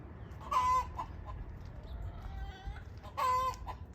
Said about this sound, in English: I like that sound of chickens clucking and roosters crowing